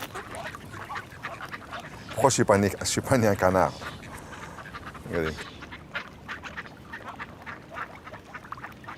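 Ducks being fed quack in a noisy burst of honking calls, nearby, with someone speaking briefly over the outdoor background.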